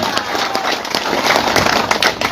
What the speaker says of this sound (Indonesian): Kita tepuk tangan dulu untuk keluarga besar di Moliro.